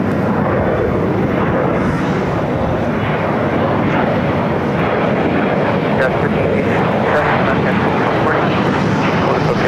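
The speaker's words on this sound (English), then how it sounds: "Just had a United 757-200 coming in from Newark for 2445, just arriving here on the south side." United Boeing 757-200 arriving from Newark on the south side at Los Angeles airport: a loud, continuous jet roar with a broad rushing texture that holds steady throughout, with no gaps.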